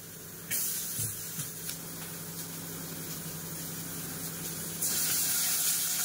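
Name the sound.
onions added to hot oil in pan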